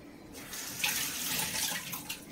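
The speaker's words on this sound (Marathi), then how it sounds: "एवढंच पाणी टाकायचं आहे, जास्त पाणी टाकायचं नाही" Water pours in short splashing bursts into a pressure cooker pot holding taro leaves, a close, fairly quiet running-water sound with uneven surges.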